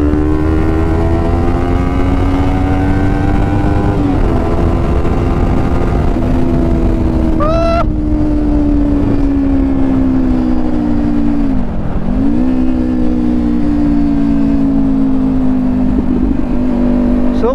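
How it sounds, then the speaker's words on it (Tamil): A modified Kawasaki Ninja 400 inline-two motorcycle engine idles loudly up close, its pitch rising and dipping as the throttle is blipped in short revs. "பைக் சவுண்டை கேளுங்க கைஸ்."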